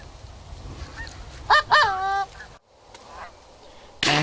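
Flying geese during a waterfowl hunt let out a few loud, close honks in a quick cluster, with quieter outdoor background and a brief sharp noise at the end.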